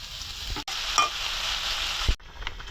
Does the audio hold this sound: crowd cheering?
no